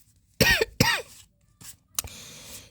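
A woman coughs in two sharp, loud bursts close by, followed by a softer throat sound and a fainter final cough, with quiet pauses between.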